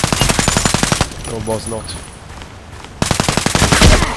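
Rapid bursts of KAC PDW rifle fire in the video game Contract Wars, a fast rhythmic string of loud shots for about a second, a pause with brief talk, then another sustained burst.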